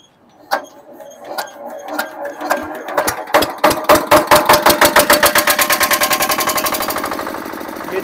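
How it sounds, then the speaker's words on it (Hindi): A hand-start diesel generator set with a Field Marshall engine is cranked and fires up, its irregular first knocks quickly settling into a fast, loud, evenly pounding exhaust beat that runs steadily close by. "ये जेनसेट जो होता है हमारा हैंडल स्टार्ट जनरेटर है, फील्ड मार्शल कंपनी का इंजन होगा"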